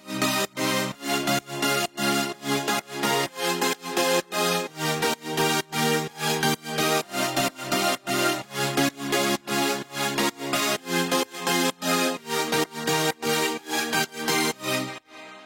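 Layered synthesizer chords from an electronic dance track, played as a steady run of short rhythmic stabs over about fifteen seconds, loud and full with no voices.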